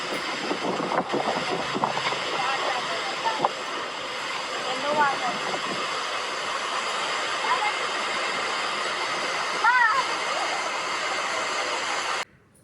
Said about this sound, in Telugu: డ్యామ్ ఒక గేటు పైకి తీసేపటికి ఎంత ఫోర్స్గా వాటర్ వస్తుందో చూడండి